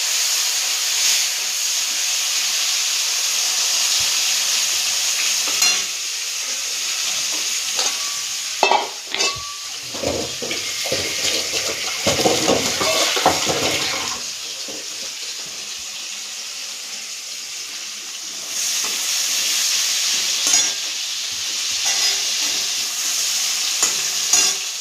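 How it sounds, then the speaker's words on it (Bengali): Vegetables fry in hot oil in a pan with a continuous loud sizzle and hiss. In the middle, stirring brings clattering bursts and louder spitting before the frying settles back to a steady sizzle. "কালনাগুলো ভাজছি।"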